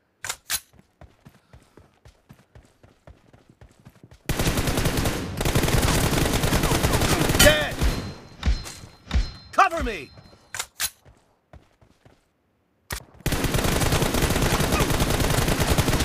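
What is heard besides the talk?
gunfire in video game PUBG, M4 rifle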